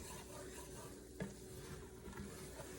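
A spoon scrapes and stirs the bottom of a pan of browning flour-and-butter gravy for smothered chicken, with soft sizzling, a single sharper scrape knock midway, all quiet and close with no talk.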